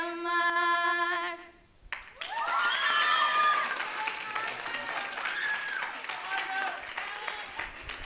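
Studio audience applauding two female performers after a song, the clapping swelling in after a held musical note ends and continuing as a dense crowd wash.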